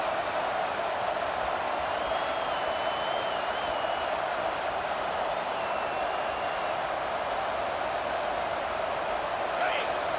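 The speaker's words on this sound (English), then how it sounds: "The crowd getting behind this defense as they try to get a stop in the red zone." A college football stadium crowd roars steadily for the defense during a red-zone stand in a UNC versus Oklahoma game, a constant distant wash of cheering under a commentator's voice.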